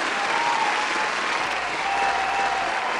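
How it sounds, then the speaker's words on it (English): A dense, even round of applause from an audience, continuous clapping at steady loudness throughout with no pauses. "Let me give you a round of applause for that."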